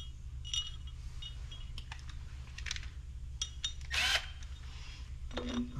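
A bolt is tightened with hand tools while rebuilding a 12 valve Cummins engine, producing scattered metallic clicks, taps and short ratcheting bursts over a quiet background hum.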